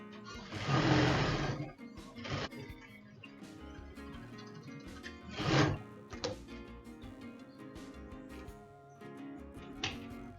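A sewing machine back-stitches a seam on a non-woven bag in a few short bursts, one longer run at the start, then brief quieter spurts with pauses.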